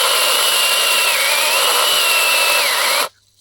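An AL-KO cordless mini chainsaw running on a Chinese battery cuts wood with a loud, steady, whining motor drone. The drone lasts about three seconds, then cuts off abruptly into near silence.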